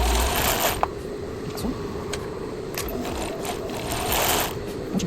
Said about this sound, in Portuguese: O meu forro aqui é de microfibra, então ele não desfia, mas fica elegante passar um overlock, né?